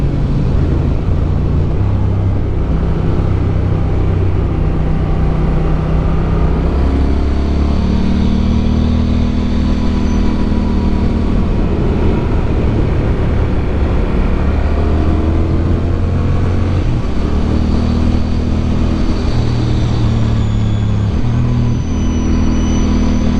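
A 2022 Honda Rebel 1100 rides cold, wet winter backroads, its engine droning loudly and continuously up close, rising and falling in pitch as it accelerates and shifts, with steady wind rush.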